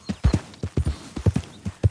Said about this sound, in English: What is the horse doing here?